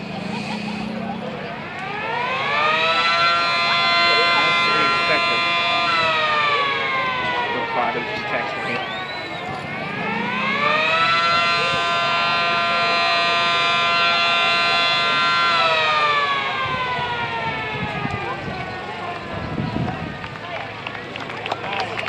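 A 1/3 scale Model 17 siren winds up twice into loud, sustained rising wails, each holding a steady harmonic tone before sliding down, with brief talk and background noise between and after the cycles.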